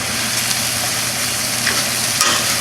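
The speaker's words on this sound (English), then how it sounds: "Perfect opportunity to throw our meat back in and kind of get it heated up a little along with the rest of the dish" Sous vide flank steak strips sizzling loudly as they reheat in a pan with fajita vegetables, a dense steady hiss with faint stirring clatter.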